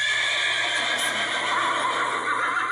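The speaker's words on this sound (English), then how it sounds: "I hear the black horse neighing at me." A black horse on a farm gives a long, steady whinny that lasts the whole stretch, clear and unbroken, with no voices over it.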